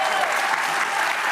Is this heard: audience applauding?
yes